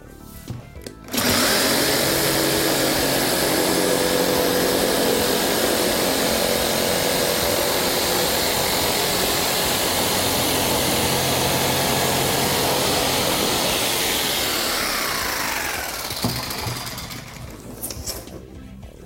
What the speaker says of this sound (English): Also another tool that we use for cutting Akril panel is a jigsaw.